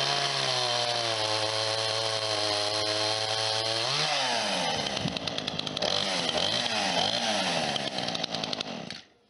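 A chainsaw cuts down a tree for firewood and kindling, the engine droning steadily at first, then bogging and revving unevenly through the cut, loud and close throughout before stopping abruptly.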